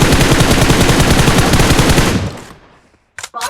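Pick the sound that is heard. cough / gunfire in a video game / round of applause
gunfire in a video game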